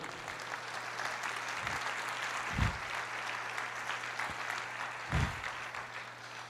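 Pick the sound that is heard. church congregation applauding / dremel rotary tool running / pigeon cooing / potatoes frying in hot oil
church congregation applauding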